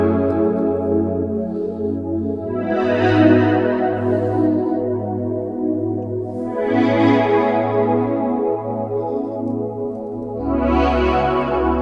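Smooth, lush synthesizer patch on its first mode, with sustained chords and low bass notes swelling in three long phrases, wide chorus and echo effects, loud and alone with no talking.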